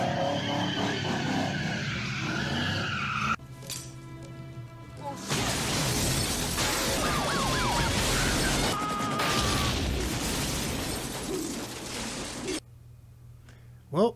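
Cars in a police chase through a Lowe's parking lot skid and squeal their tyres again and again over engine roar, with crashing, shattering bursts and booms, and a short sharp thump right at the end.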